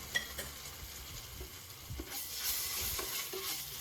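Ginger garlic paste frying in a pan for Ambur mutton biryani, stirred with a spoon: a steady close sizzle with soft scraping strokes throughout, no voices.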